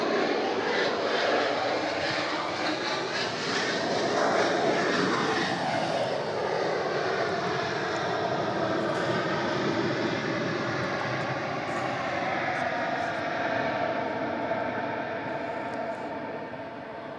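An airliner, flight 1313 from Hobart, at Melbourne Airport: a loud, sustained jet engine roar with shifting whine tones, fading slightly toward the end.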